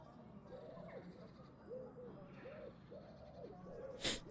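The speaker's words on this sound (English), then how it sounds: "Birds." Birds coo as a sound effect during a tabletop game podcast: a soft, rhythmic series of low coos, about six repeated calls, faint and steady, with a brief sharp noise near the end.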